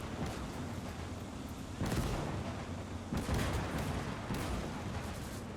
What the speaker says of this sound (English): Oh, artillery shells landing back here.